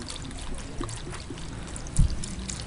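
Estuary water trickles and pours softly into a tank holding periwinkles, a low continuous dribble with a brief louder splash near the end.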